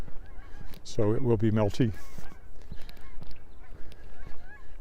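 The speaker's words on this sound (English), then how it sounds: "There goes another flock of geese." A flock of geese honks in a brief burst of repeated calls along a creek in cold weather, loud and fairly near, followed by someone talking over outdoor background noise.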